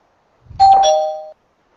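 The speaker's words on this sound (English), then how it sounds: "Ding dong!" A single electronic doorbell chime, one clear close tone held for under a second after a brief low thump, then silence.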